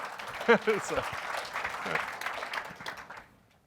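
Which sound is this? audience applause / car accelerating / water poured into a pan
audience applause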